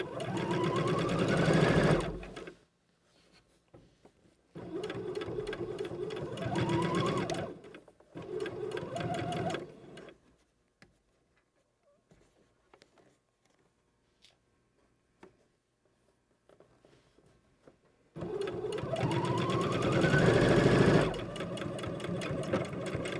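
Sewing machine stitching a sleeve in several close, loud bursts of rapid mechanical whirring, separated by quiet gaps with faint handling noises.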